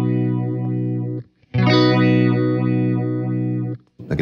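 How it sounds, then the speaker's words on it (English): A guitar runs through a Fender Lost Highway phaser pedal with triangle modulation, its sustained notes sweeping smoothly up and down in a steady whooshing cycle. The sound is loud and close, cut by a short pause before a second strummed passage. "So here's the triangle."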